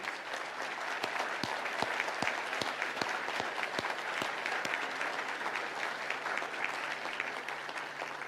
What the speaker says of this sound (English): Can we all give a round of applause for the candidates?